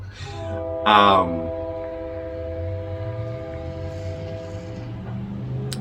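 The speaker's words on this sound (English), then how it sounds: "sorry about the train." A train passes nearby, a low rumbling drone with a steady tonal whine running under the whole stretch, after a brief burst of speech near the start.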